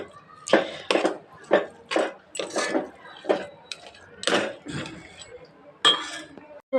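Spoon clinking against a bowl while mixing spices for pakora batter, a series of sharp metallic taps in an uneven rhythm, close and fairly loud, with brief gaps between strikes.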